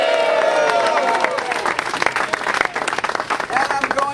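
A crowd at a campaign rally for a Senate candidate claps and cheers in a dense, sustained burst of applause, loud and close, with voices calling out over it.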